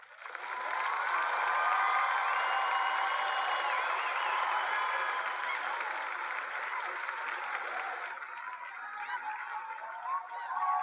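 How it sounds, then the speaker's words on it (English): Cheering crowd sound effect, a dense wash of applause, whoops and shouts that holds steady and loud for about eight seconds before thinning toward the end. "We'll have some cheering, I think."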